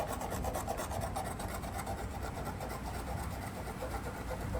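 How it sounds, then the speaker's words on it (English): A metal file scraping a paint run off a painted surface: a steady, close, rasping scrape with fine rhythmic strokes that continues evenly throughout, no talk. "That's how the file works."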